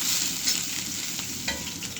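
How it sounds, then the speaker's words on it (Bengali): Potato fry with turmeric, chili and onion sautéing in a pan, a steady close sizzle with soft stirring scrapes and a couple of brief clinks. "আলু ভাজিটাকে কষাবো"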